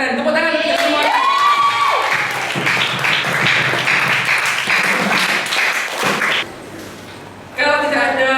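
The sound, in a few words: class applause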